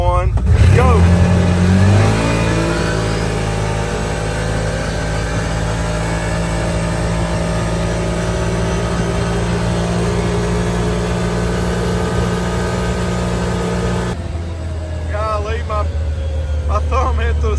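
A CFMOTO UFORCE 1000 UTV with an aftermarket clutch kit accelerates hard in high gear, the engine rising to a loud, sustained drone that holds steady before easing off, with voices over it at the start and end.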